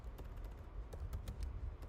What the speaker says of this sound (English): Okay, so I'm going to start typing right now.